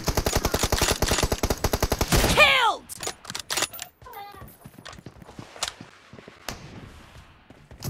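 Rapid bursts of automatic gunfire rattle loudly for a couple of seconds in a shooter video game, followed by scattered single shots and distant game effects.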